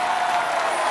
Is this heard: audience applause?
yes